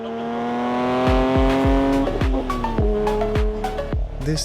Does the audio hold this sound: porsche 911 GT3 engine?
yes